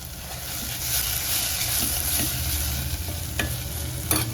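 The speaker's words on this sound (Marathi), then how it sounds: "फोडणीमध्येच थोडीशी कोथिंबीर टाकायची" Hot oil sizzles steadily in a pan as coriander is added for tempering, with a few sharp crackles and stirring scrapes near the end.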